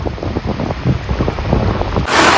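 Heavy unseasonal rain pours steadily around a shepherds' camp where sheep are penned, a dense continuous hiss with low rumbling that swells into a louder, brighter wash near the end.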